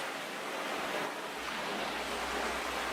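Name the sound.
ocean waves recording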